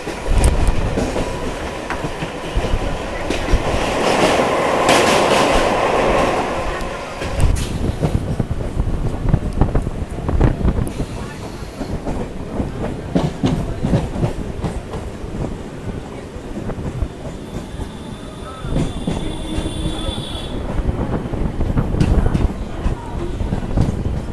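A suburban train on the Eastern Railway runs from Bidhannagar Road toward Dum Dum Junction, its steady rumble and wheel clatter filling the whole stretch, with wind buffeting and a brief louder burst early on.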